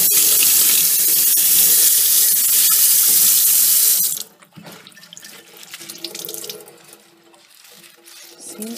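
A kitchen tap runs hard into a sink over blueberry-dyed fabric, a loud, steady rush that stops abruptly about halfway. Quieter drips and wet handling of the cloth follow.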